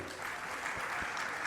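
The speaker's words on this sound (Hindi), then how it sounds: "जोरदार ताली बजा दीजिए।" Audience clapping at a Jain religious question-and-answer gathering, a dense even patter of many hands, fairly faint and continuous with a couple of sharper claps standing out.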